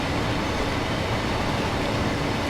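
A Class 66 diesel locomotive hauling a freight train rolls past with a dense, continuous rumble and clatter of wagons, loud and steady throughout.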